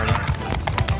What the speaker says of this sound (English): That is a really nice horse.